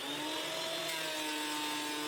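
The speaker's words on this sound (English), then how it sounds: "I'm running it through the planer to get it nice and flat" A thickness planer feeds a board of dense old wood, cut to width for a rotted window repair, with a steady, loud mechanical whine and rushing cut that holds unbroken from start to end.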